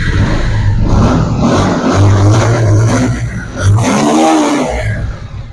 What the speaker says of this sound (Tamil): வண்டி ஸ்டார்ட் பண்ணி கூட காமிக்கிறேன் பாருங்க.